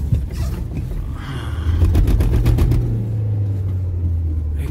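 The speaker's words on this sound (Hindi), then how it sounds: "ये देखो देखो गाइस देखो कैसे स्लिप हो रही है गाड़ी" Car engine rumbling and straining as the vehicle slips on a snowy road at the high-altitude Tanglang La pass, a steady loud low drone with mechanical creaks.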